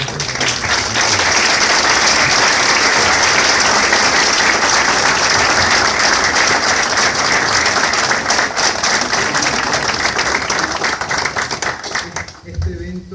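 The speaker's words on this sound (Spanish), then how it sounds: "Quiero aprovechar para pedir un aplauso para las dos personas." Audience at a chamber of commerce commemoration event gives loud, dense applause. The sustained clapping holds steady for a long stretch, then cuts off near the end.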